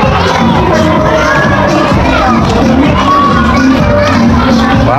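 A large crowd of children shouts and cheers at a school Nutrition Month costume event, a loud, continuous wash of young voices with scattered whoops rising throughout.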